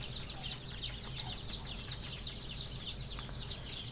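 Native and purebred laying hens cluck softly in a steady, overlapping murmur at moderate distance, with occasional higher chirps mixed in over a constant low background hum.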